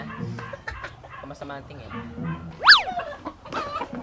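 Fighting roosters cluck and give one brief, sharp squawk partway through, while a person talks over them close by.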